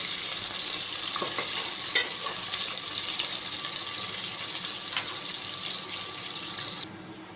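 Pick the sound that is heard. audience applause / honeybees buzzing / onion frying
onion frying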